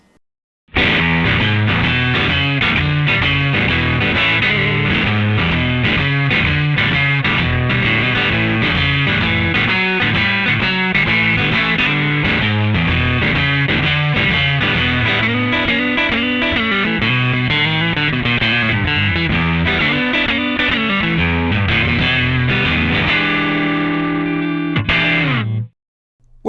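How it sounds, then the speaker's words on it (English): A DV Mark Maragold amp on its clean channel with the gain cranked plays a muddy, distorted blues guitar line, with continuous chords and single notes ringing loudly for about twenty-five seconds before stopping abruptly. "If I crank up the clean channel gain,"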